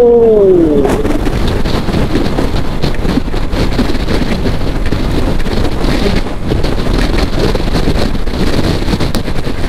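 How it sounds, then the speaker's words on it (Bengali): Strong gusts buffet the microphone on an exposed spot where riding a motorbike has become impossible, a loud, continuous roaring rumble with no talk, after a brief rising whistle at the start. "প্রচন্ড বাতাস ভাই, সিরিয়াস।"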